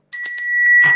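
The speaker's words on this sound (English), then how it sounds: "Thank you for the bells, Wow Wayne." A bright bicycle-style bell sound effect sent by a livestream viewer rings out in a quick cluster of dings, close and loud, with a sustained metallic ring trailing between strikes.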